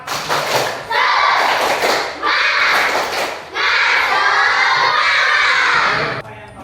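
A classroom of children doing a rhythmic spirit clapping chant, loud group claps in bursts with children's voices shouting along, close and energetic.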